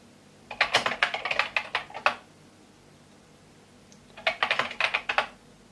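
Keys clatter on a Commodore VIC-20 computer keyboard in two bursts of rapid typing, each a couple of seconds long, separated by a quiet pause, close and crisp.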